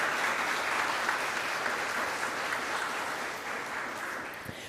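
A congregation claps together at a religious service, steady dense applause filling the room throughout, easing off slightly toward the end with no voices over it.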